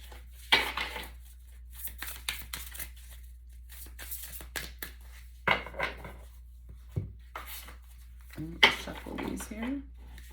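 Quick bursts of papery riffling and card snaps recur several times, close by, with pauses and light handling noise between them.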